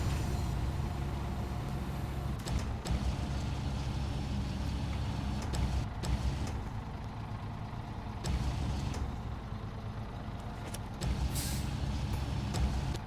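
A truck engine rumbles steadily in SnowRunner, joined by several sharp bursts of air-brake hiss and clunks over a continuous low drone.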